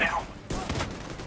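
A burst of gunfire from a machine gun turret in The Division 2 shooter game, a short dense volley that cuts in loudly after a brief lull, with a voice briefly audible.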